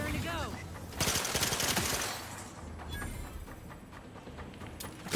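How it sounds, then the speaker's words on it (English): Panicked automatic gunfire from a sci-fi shooter game, The Outer Worlds 2, crackles in a dense burst of rapid shots, loudest early on, then eases into scattered shots and game ambience with a voice talking over it. "Panic shooting"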